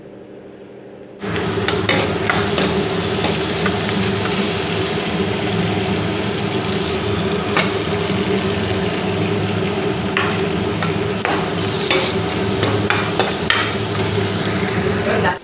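Vegetable bhaji stir-frying in a pan gives a steady, loud sizzle with frequent scraping and clinking of a spatula against the metal, starting abruptly after a quiet second and continuing without talk.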